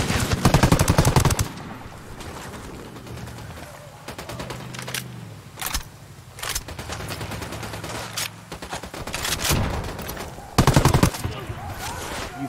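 Bursts of automatic gunfire in Ghost Recon Wildlands, loud rapid volleys at the start and again near the end, with scattered single shots and game ambience between, voices heard briefly.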